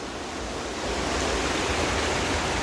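A waterfall near a dam at Dani waterfall on the route from Kashmir to Naran roars as a dense, continuous broadband rush of falling water, loud and close with no other sounds.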